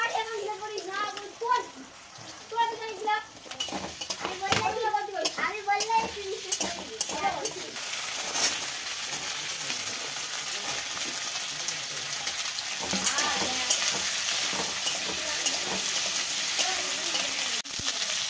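Chilli chicken with chillies and onions frying in a pan at a home Christmas picnic, with steady sizzling and intermittent scraping stirs, while people talk over it.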